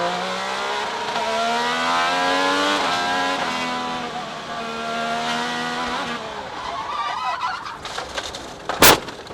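IndyCar race car engine at Thermal Club qualifying, a high revving whine that climbs and drops through gear changes over several seconds, then a sharp snap and brief burst near the end.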